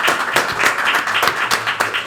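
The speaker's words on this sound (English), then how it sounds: "a big round of applause for Sophia" Applause for Sophia, a high school basketball player headed to college, at a town committee meeting: steady, moderately loud clapping from a room of people, a dense patter of hand claps lasting the whole moment with no pause.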